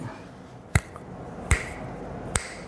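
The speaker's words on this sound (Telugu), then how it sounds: "చిటికేసి" Three sharp, isolated finger snaps spaced roughly evenly apart, close and crisp against a quiet background with no talk.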